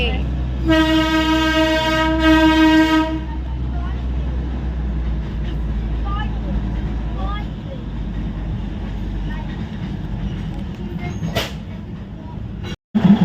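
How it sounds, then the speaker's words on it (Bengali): Darjeeling toy train in motion: a loud, sustained horn blast rings out near the start, then the carriage settles into a steady rumbling, clattering run with faint voices underneath. "আমরা এখন টয় ট্রেনের মধ্যে বসে আছি, দার্জিলিংটা ঘুরছি টয় ট্রেনে বসে"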